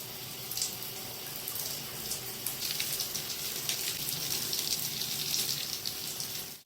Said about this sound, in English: So here's me actually washing my locks.